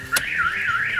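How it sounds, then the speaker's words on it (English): A Clifford alarm on a 1980s BMW 325i blares a loud, continuous warbling siren that rises and falls steadily, starting with a sharp click. "I turn off the alarm"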